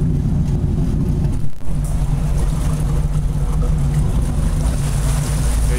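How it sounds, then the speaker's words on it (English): A city fire boat's twin 270 gas engines, comparable to 350 gas motors, idle together in a steady, loud, close rumble with a brief dip partway through. "both engines running. Those 270s, like a 350 gas motor, both sitting there running,"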